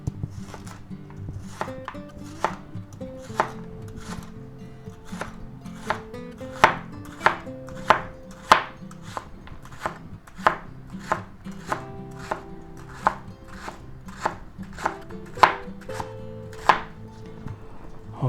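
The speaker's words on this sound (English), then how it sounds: "let's go ahead and slice that up" A knife slices bok choy on a cutting board in a home kitchen, giving a long run of crisp, evenly spaced chops at close range, with no talking.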